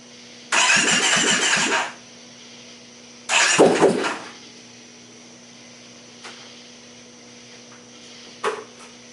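The rebuilt engine of a Kawasaki Brute Force 750 ATV cranks in two loud, rough bursts of about a second each with a pause between, followed by a few faint clicks in a quiet setting.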